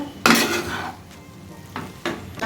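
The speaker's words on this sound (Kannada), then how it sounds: "ಇವಾಗ ಚೆನ್ನಾಗಿ ಮಿಕ್ಸ್ ಮಾಡಿಕೊಡಿ" Vermicelli upma is stirred in a pan with a metal spoon, giving a few scraping, clinking strokes against the pan with quiet pauses between them, close by and fairly loud.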